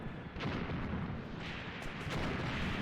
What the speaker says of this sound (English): These units over here are under mortar fire.